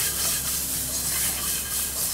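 Lamb kebab pieces dry frying in a pan for Indian-style lamb wraps give off a steady, soft sizzling hiss, close and continuous with no talk.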